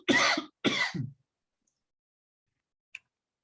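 A man gives two quick, throaty coughs close to a microphone, back to back, followed by a long silence and one small sharp click.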